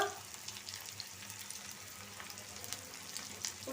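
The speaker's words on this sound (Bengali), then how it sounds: "তেল গরম হয়ে গেছে দিয়ে দিলাম রসুন পেঁয়াজ" Garlic and onion fry in hot oil in a wok, a soft, steady sizzle with faint crackles and light clinks.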